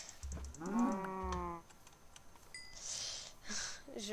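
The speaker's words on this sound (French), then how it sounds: "Elle est où la vache? Elle est là. Petite vache." A cow in the Minecraft video game gives a couple of short harmonic moos early on, followed by softer in-game noises.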